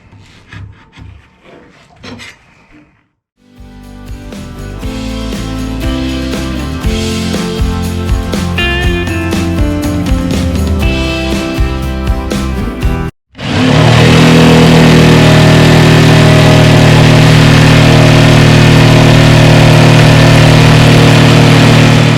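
A jigsaw grinds loudly and continuously through a board of boat hull material during a 1973 Aquasport 222 rebuild, following a few quieter handling knocks and a brief pause.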